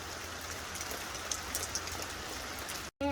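Steady rain falling outdoors near a miniature Shetland pony, a dense, even hiss that holds throughout and cuts off briefly just before the end.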